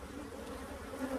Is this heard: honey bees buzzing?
yes